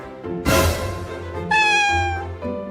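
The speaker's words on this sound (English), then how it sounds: "Suddenly, a cat runs up." A cat meows twice, loud and close: a drawn-out whining meow, then a higher, strained one, followed by a short softer cry.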